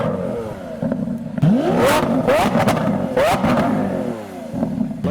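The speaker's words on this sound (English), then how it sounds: "the crowd are crowding around the orange 918 once again, who is using his V8 to manoeuvre out of the car park rather than the electric motors" Orange Porsche 918 running on its V8 in a car park, giving several sharp revs that rise and fall as it manoeuvres out, loud and close over a murmuring crowd.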